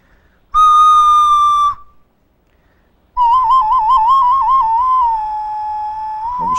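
Two clear, flute-like whistle tones from a clay whistle: a short steady note, a pause, then a longer note with a wavering trill.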